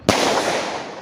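A single sharp whistling thunder firecracker bang, loud and close, followed by a brief crackling, hissing tail.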